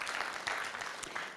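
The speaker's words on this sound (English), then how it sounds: "A round of applause for that." Brief round of applause from an audience at a media expo session, a dense steady patter of clapping that holds at an even level for a moment without any voices over it.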